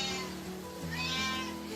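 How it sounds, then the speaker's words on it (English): Newborn kittens give soft, faint meows, two or three thin rising cries in quick succession, close by and with nothing else around them. "beloved Veera gave birth to 2 little kittens last week."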